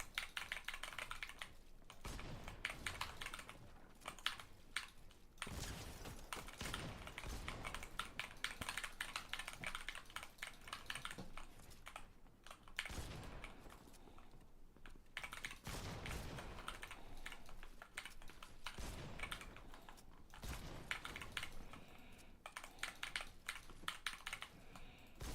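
A cheap computer keyboard clicks under steady typing, rapid close clacks in bursts separated by short pauses, moderately loud with no talk.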